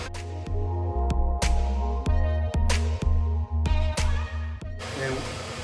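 A hair dryer fitted with a diffuser blows steadily on curly hair, a loud close whir broken by regular short clicks as it cycles between heating and cooling.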